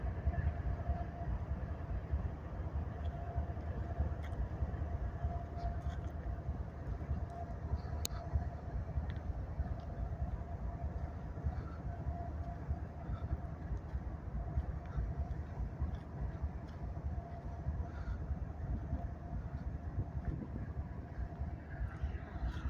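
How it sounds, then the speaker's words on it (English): A heavy coal train rumbles past steadily for the whole stretch, a deep continuous roar of rolling cars with a faint squeal now and then. "whoever's coming at us, I'm thinking it's probably a coal train"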